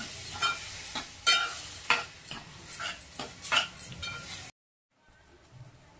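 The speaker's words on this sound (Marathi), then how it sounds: "वटाणे आणि बटाटा, ते टाकून घ्यायचे आणि परतून घ्यायचे" Peas and potatoes sauté in a pan, with a soft sizzle under repeated scraping and stirring strokes in an uneven rhythm, then a brief drop to silence before a faint, quieter stretch.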